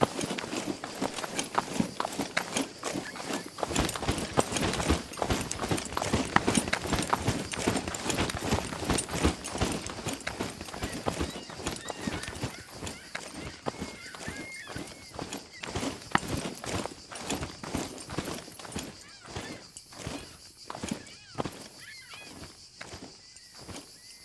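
Character footsteps in the video game SCUM sound as a steady rhythmic run of crunchy, hoof-like steps on the ground, fairly close, continuing through the whole stretch and easing slightly near the end.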